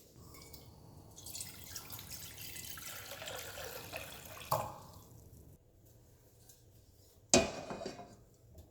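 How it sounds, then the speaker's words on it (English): Water pours steadily into a cooking pot for tapioca pearls in a home kitchen, a hissing splash lasting several seconds, with a sharp metallic clank of the pot near the end. "So now I'm going to add some water to a pot and get started with these tapioca pearls."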